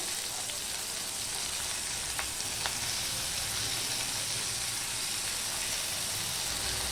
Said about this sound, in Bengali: পেঁয়াজ আর রসুনটাকে আমি লাল লাল করেই ভেজে নেবো